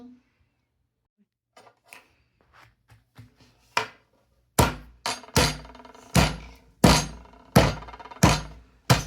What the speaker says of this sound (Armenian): Հիմա փորձում ենք խփել փուչիկին, որ տոպրակի մեջի սոդան պայթի։